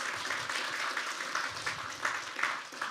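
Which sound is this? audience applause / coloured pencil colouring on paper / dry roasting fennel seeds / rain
audience applause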